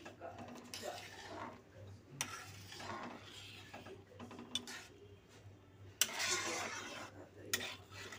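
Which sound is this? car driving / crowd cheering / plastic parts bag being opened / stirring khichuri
stirring khichuri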